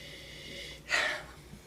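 One short, close sniff over a glass of inexpensive red wine stands out above quiet room tone.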